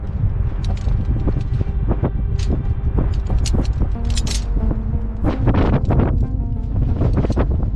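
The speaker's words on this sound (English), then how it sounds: "Watch it, wind's picking up the fog." Strong wind buffeting at a high-altitude bridge construction site, a steady rushing roar with scattered knocks and clatters of work, loud and constant.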